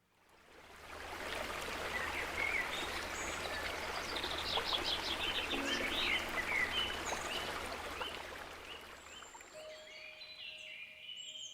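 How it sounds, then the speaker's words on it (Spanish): A river murmurs through a forest in a continuous rushing flow, and birds chirp and sing over the water. The sound swells in and holds steady before easing off near the end. "empecé a oír el murmullo apresurado y ansioso del río Castle"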